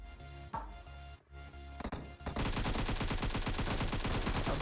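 PUBG Mobile game gunfire: a few scattered shots and a short gap, then a long burst of rapid automatic fire that goes on to the end, loud and close.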